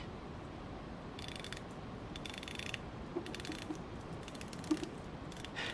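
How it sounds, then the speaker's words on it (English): Rotating bezel on a Merkur SKX homage watch giving soft, mushy clicks, a faint run of small ratcheting ticks up close over a hiss of background noise. "rotating the bezel feels kind of mushy, it is not crisp, and every second click sounds a bit different"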